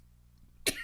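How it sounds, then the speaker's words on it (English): A single sharp cough bursts out near the end after near silence, short and fairly close, with a faint hum beneath. "Coughing like hell."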